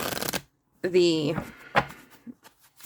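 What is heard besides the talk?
cards being shuffled overhand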